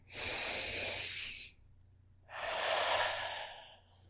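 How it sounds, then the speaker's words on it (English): A deep, slow breath drawn in and released, then a second long inhale, heard close and alone in a calm guided-meditation setting, with quiet pauses between. "take another nice deep breath in"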